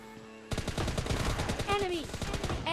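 Rapid automatic gunfire in the battle royale game BGMI, a loud continuous burst of shots lasting a couple of seconds after a brief quiet start.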